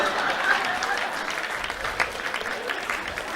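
Sustained audience applause at a Hindi comedy poetry show, a dense, even wash of many hands clapping together, fairly loud and continuous throughout.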